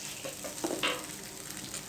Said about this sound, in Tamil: ஈரல் போட்டு நல்லா கிண்டுங்க.